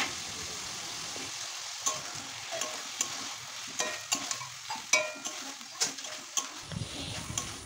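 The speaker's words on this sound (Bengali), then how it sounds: "তারপরে দিয়ে দেব ভেজে রাখা আলুগুলো, দিয়ে একটু নাড়িয়ে চাড়িয়ে নিচ্ছি" Fried potatoes and boiled peas stirred in a pan of ghugni, a soft sizzle under a series of distinct spoon scrapes and clicks against the pan, close and intermittent.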